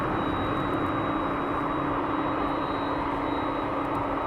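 Steady, broad roar of an aircraft approaching to land at East Midlands Airport at night, a continuous distant rumble with a faint high whine, unchanging over several seconds and no talking.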